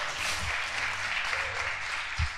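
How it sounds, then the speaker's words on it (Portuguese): A church congregation applauds, a steady wash of clapping heard from a distance and fairly faint, with no talk over it. "Quantos podem aplaudir o Senhor Jesus Cristo?"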